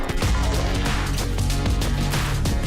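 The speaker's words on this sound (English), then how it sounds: "the growly ass impact bassy noises that play when the loop restarts" Glitched, stretched, growly impact bass hits in electronic music, heavy booming low thumps that repeat irregularly inside a dense, loud mix.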